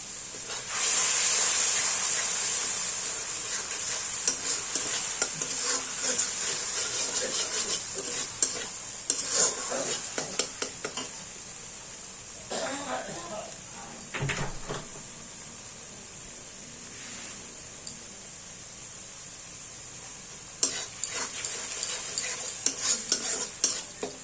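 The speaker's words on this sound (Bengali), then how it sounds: "নুন আন্দাজ মতো দিয়ে আমরা মশলাটাকে ভালো করে কষবো" Spice paste with Kashmiri chilli and salt sautéing in a pan, a steady hiss and sizzle broken by intermittent scraping and stirring knocks from a spoon.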